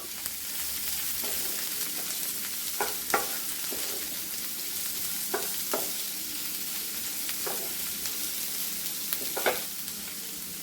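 Sliced small shallots frying in a pan, a soft continuous sizzle with several brief scraping strokes of a spoon stirring them at irregular intervals, fairly quiet and close.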